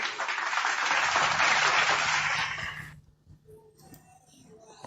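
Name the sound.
audience applause at a debate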